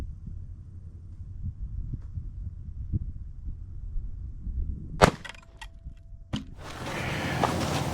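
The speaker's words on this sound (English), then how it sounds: "This is Federal 9mm 124 grain HSTs out of a full-size Glock." A full-size Glock pistol fires Federal 9mm 124 grain HST rounds: two sharp, loud reports a little over a second apart, the second followed by a lingering wash of noise, after quiet low-rumbling background.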